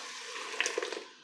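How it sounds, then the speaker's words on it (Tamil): Water from rinsing a mixer jar poured into a pan of cooking masala for egg kurma, a brief splashing pour that rises into a few louder splashes near the end. "அப்புறமா மிக்ஸி ஜாரை கழுவி ஊற்றிக்கலாம்."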